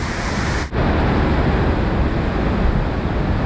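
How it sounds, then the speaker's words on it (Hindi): Floodwater rushing down a swollen river in Kullu, Himachal Pradesh after a cloudburst, a loud continuous broadband roar with a brief dip near the start, steady and close. "अब बराए से देखो पानी ना खतरनाक आ रहा है"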